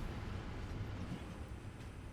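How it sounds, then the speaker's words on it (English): Trains run in a factory-building video game, a faint, low, continuous rumble with a rolling, uneven texture that carries on alone for a couple of seconds. "Oh, that sounds like the trains here"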